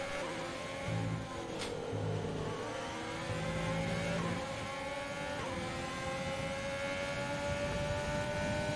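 Formula 1 McLaren car in a racing video game, engines whining at high revs with rising pitch as a car passes, steady continuous drone over the whole stretch.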